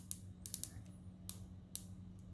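The rotating bezel of an Addiesdive MY-H3 quartz 40 mm dive watch clicks in sharp, faint ratcheting ticks at uneven intervals over a low background hum.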